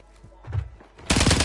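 Sniper rifle fire in the video game Warzone: a dense, loud burst of gunfire erupts near the end after softer thuds and low rumbles, with no talk over it.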